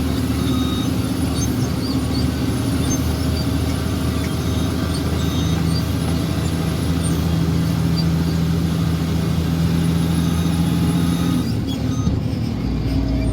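Steady truck engine drone while riding along Sigsag Road in Antipolo, Rizal, a continuous low rumble with road noise throughout, no talking.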